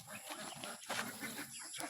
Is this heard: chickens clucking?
yes